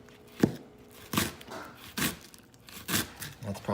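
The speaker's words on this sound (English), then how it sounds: "And I probably won't use all the scallions because this is a lot, but just gently slide the knife, try and make as thin slices as possible." A knife thinly slices scallions on a cutting board in a home kitchen, with five or six distinct, evenly spaced crisp chops, close and fairly loud, and no talking.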